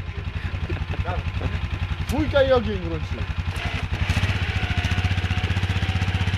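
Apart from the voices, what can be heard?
Kawasaki KXF450 dirt bike engine starting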